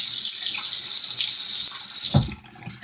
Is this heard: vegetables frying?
no